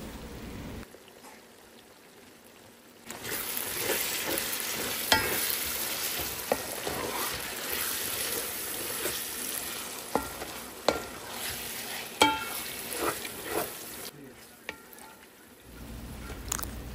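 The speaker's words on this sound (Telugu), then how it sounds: "కట్ చేసి పెట్టుకున్న కొత్తిమీర ఇంకా పుదీనాని కూడా వేసుకొని ఇది కూడా బాగా ఫ్రై చేయాలి ఒక 1 minute" Chopped coriander and mint dropped into hot oil in a pan for Andhra-style chicken biryani, bursting into a loud, dense sizzle after a quiet start, with occasional stirring clicks and scrapes, then fading near the end.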